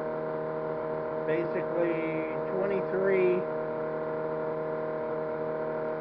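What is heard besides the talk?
small electric motor running at max speed, about 2300 RPM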